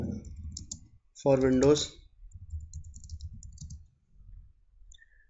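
Soft, scattered clicks of typing on a computer keyboard run under a voice, with a brief spoken phrase near the start.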